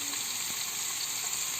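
Onions frying with salt and curry leaves for a Kerala dum chicken biriyani give off a steady, dense sizzle that hisses evenly throughout at close range, with no voices.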